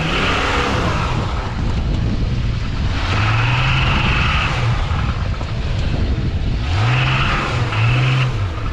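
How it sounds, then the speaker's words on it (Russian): A Jeep Cherokee engine runs hard while driving off-road, with a loud continuous drone that rises in pitch twice as the engine revs. The reported piston knocking is not separately distinct. "Тут такое ощущение, что у него шутуны так же брякают, как у меня. Это поршня."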